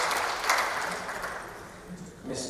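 Applause from a conference audience at a newspaper's tenth anniversary event, a dense steady patter of many hands filling the hall with faint voices murmuring beneath.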